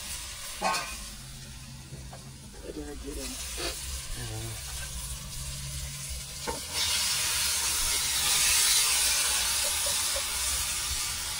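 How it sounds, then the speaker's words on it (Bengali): Marinated chicken hits hot oil with spices for chicken kosha, and a loud, close sizzling hiss bursts in partway through and holds steady. A voice speaks over faint clatter before the sizzle starts. "ম্যারিনেট করা চিকেনটা দিয়ে দেওয়া হলো।"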